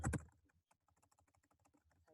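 Quiet computer keyboard typing: a few louder keystrokes at first, then a fast, even patter of soft clicks as a password is entered.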